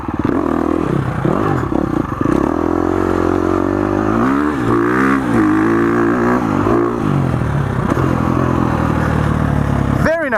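A 2019 KTM 350 XCF dirt bike is ridden hard. Its engine revs rise and fall in repeated sweeping surges, loud and close, with a sharp blip at the end.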